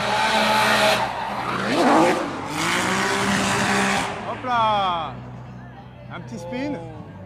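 Tires squeal and skid as a drift car spins out at Long Beach after too much throttle, engine revving hard, with excited voices chattering in French over the screech.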